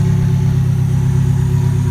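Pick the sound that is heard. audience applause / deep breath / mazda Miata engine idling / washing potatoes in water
mazda Miata engine idling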